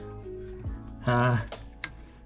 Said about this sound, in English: I'll try to do it without removing the alternator by using the ratchet spanner